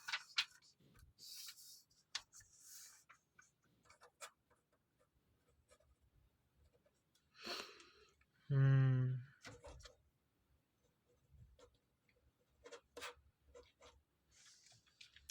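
An equation is handwritten on a surface, with soft scratchy strokes in short bursts amid quiet pauses, and brief speech in between.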